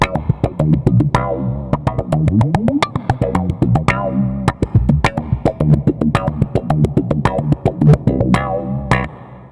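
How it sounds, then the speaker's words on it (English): A funky, percussive bass line on a SlapStick N-100 PRO with a squelchy wah envelope filter sweeping each note, played close and alone in choppy rhythmic bursts. "The one I like to play the most is called the wah effect"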